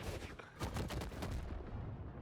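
A cannon weapon in the fighting game Brawlhalla fires a quick cluster of booming shots in a tournament match, followed by a fading rumble; fairly quiet overall.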